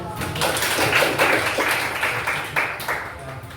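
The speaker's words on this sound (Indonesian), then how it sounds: "Oke, tepuk tangan." A classroom of students at a vocational high school in Depok, Sleman, claps together in a steady, dense burst of applause that runs the whole stretch at moderate loudness, with some voices mixed in.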